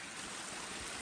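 A small stream pours over a low waterfall in a wetland, giving a steady broadband rush of water, fairly faint and even throughout, with no voices.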